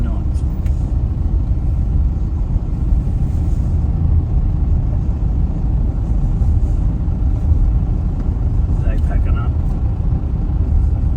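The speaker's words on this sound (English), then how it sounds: "Now to drive to our next camp." Inside a car travelling between campsites, a steady, loud road rumble and engine drone continue throughout, with no clear breaks.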